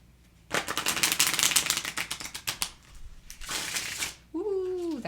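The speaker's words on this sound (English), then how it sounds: "I'll shuffle the linen one" Rapid papery riffling of 330 GSM black-core linen oracle cards in two bursts of shuffling, close up, followed by a short voice.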